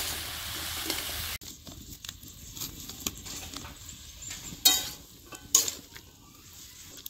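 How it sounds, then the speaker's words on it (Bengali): Vegetables with turmeric powder and salt stirred in a pan for a village-style Bangladeshi bhaji, giving a soft scraping and rustling stir with faint sizzle and a couple of brief clinks of the utensil against the pan. "সব কিছু ভালো করে মিক্স করে নিব"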